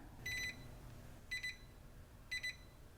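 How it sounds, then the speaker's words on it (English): Three short bursts of high electronic beeping from a capacitance meter, each a quick double or triple pip, spaced about a second apart over a faint hum. "And you'll notice the meter's beeping."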